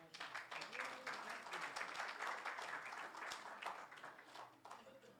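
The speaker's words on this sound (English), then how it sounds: "Applause for Hassan." Applause at a mosque gathering for a Ramadan celebration of Imam Hassan's birthday: a steady wash of clapping from a crowd, sustained for several seconds at moderate loudness.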